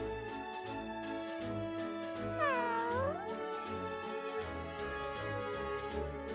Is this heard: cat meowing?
yes